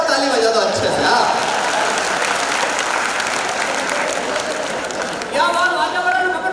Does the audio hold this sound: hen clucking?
no